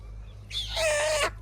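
A young chicken lets out a single loud, close squawking cluck lasting under a second over a low steady hum, with no talk around it.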